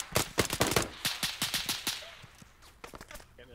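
Rapid bursts of gunfire aimed at vehicle tires, a dense volley of loud close shots followed by sparser single cracks as the firing tapers off.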